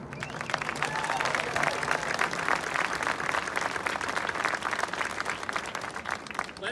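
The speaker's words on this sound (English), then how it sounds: "Let's give one last round of applause to these individuals" Steady, sustained applause from a large crowd at a media preview for the Copperhead Strike roller coaster, dense and even throughout with no break.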